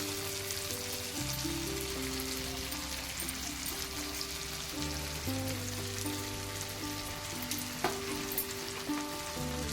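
Onion, tomato and fresh grated coconut sautéing in a pan for a cashew curry, a steady close sizzle and frying hiss under a constant background hum, with no talking.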